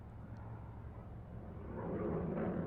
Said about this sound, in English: the afterburners cracking in briefly for a quick acceleration away